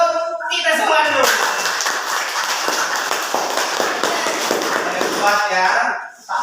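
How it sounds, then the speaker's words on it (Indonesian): A class of seventh-grade students claps as a group, the applause swelling into a dense, continuous patter that holds for several seconds before dying away, with a voice speaking briefly at the start and end. "Tepuk tangan untuk kita semua dulu."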